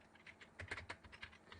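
Keys on a computer keyboard are typed in a quick irregular burst of soft close clicks, several taps grouped together with short pauses between them.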